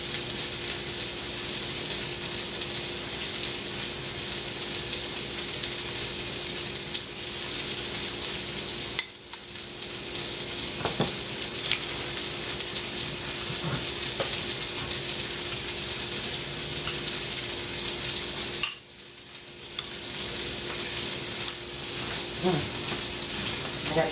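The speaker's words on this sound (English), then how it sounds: "I gotta heat up the gravy again." Gravy reheating in a pan gives a steady, close frying sizzle that runs throughout, broken by two brief dips in intensity.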